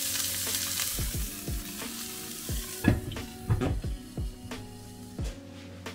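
Beef burger patty topped with cheddar slices sizzling in a covered pan, a loud continuous fry with sharp utensil scrapes and clanks as it is flipped, close by with no talking.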